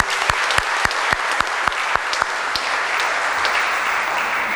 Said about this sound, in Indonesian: Nah, itulah tepuk tangan orang GKJ.